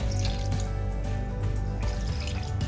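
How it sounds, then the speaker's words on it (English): Water pours and splashes steadily into a metal pressure cooker holding mutton, close and fairly loud, with a continuous gurgling flow. "I'll add in some water."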